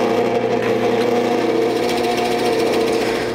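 Loud, steady whirring of a drill press with a Forstner bit boring into wood, a constant mechanical grind with no pauses.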